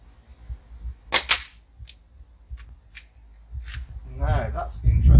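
A Sig P365 CO2 air pistol fires with a weak, sharp crack after a misfire, followed by a few faint clicks and handling noises, with a voice muttering briefly near the end.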